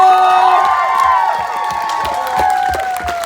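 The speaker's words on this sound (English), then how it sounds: "can I get another big round of applause for Mr. Tony Bancroft?" An audience at a Columbus Zoo show breaks into loud applause with cheering and whoops, a near, lively crowd reaction that stays strong and then eases slightly.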